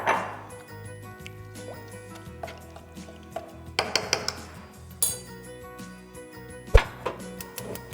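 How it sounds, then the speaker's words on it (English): Orange peel and orange juice go into a simmering pot, giving soft splashes and drips, a few sharp clinks against the pot, and quiet kitchen handling throughout. "throw this orange peel and the orange juice in there"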